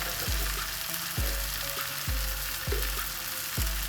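Turmeric, Kashmiri chili powder and coriander powder sauté in a pan for a spicy bitter gourd dish, a steady close sizzle broken by rhythmic scraping strokes of a spoon roughly every half second.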